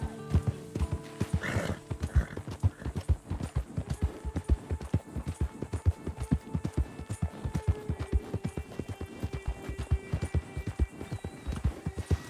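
Rhythmic hoofbeats clip-clop at a steady gallop throughout in Red Dead Redemption 2, with a short horse whinny near the start; game-like and fairly quiet.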